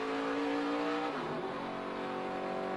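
A stock race car engine revs at the 2012 F W Webb 200, a loud sustained whine that shifts pitch partway through as the car races past, with no talk in the clip.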